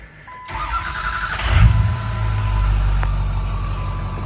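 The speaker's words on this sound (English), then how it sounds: "All right, so I'm going to move the truck" Ford F350 truck starting up and pulling away, a brief crank and catch followed by a steady mid-pitched engine idle and rev, close and moderately loud.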